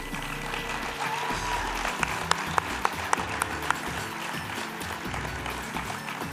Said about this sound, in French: je pense que ça vaut la peine d'applaudir chaleureusement nos nouveaux CPA